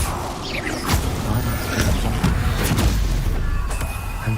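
An Incendio fire spell in Hogwarts Legacy erupts as a loud, roaring whoosh of flame with heavy booming low end, sustained over several seconds with crackling bursts.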